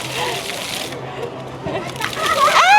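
Water suddenly splashing onto riders on a Legoland water ride in Nagoya, a loud, rushing wash of spray with people shouting and talking close by over it.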